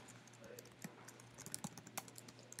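Quiet, rapid clicking of computer keyboard keys while someone edits a makefile, an irregular patter of keystrokes at a low level.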